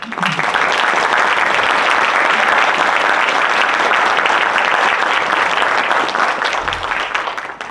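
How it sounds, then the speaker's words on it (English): Big round of applause for a visiting minister at a campus event, dense sustained clapping from a large audience, loud and even from start to finish. "So give him a big round of applause."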